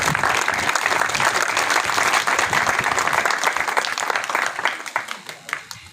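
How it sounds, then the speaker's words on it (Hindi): Loud, dense applause from a crowd at a school prize-giving ceremony, many hands clapping steadily throughout, tapering slightly at the end. "कमाल साहब के लिए तालियां।"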